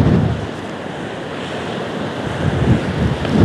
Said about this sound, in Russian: Ветерок сегодня посильнее.